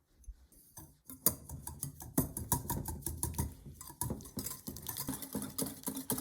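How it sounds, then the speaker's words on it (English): Eggs and sugar are whisked together in a bowl, giving a steady run of quick, close scraping and clinking strokes against the bowl's side in a quiet home kitchen, with no talking. "Put eggs, add sugar in a bowl and mix."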